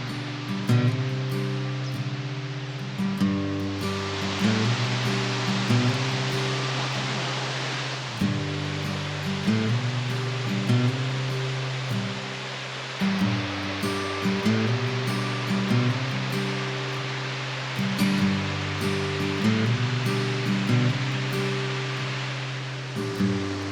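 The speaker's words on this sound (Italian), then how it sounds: "Ed ecco la chicca che abbiamo raggiunto, la cascata di Dokuzak." The Dokuzak waterfall in Bulgaria gives a constant broad rushing roar, partly covered by looping background music that runs throughout.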